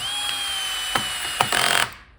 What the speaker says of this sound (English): I like to start by putting in the longest of the screws first into the main support